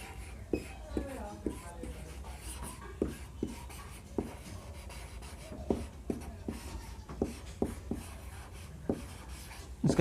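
Chalk or marker scratching across a classroom board while physical chemistry is written out, with a run of short taps and strokes and a steady low room hum underneath.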